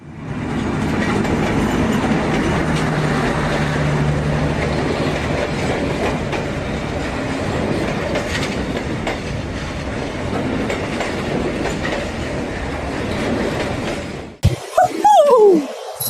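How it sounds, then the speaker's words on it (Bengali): Continuous loud train rumble with rhythmic clickety-clack of wheels on track, rolling steadily across the Hardinge Bridge at Pakshi, Bangladesh, for a long stretch before a short voice near the end. "এইখান থেকে আমরা ট্রেনে উঠে আপনার হার্ডিং ব্রিজের উপর দিয়ে যাব"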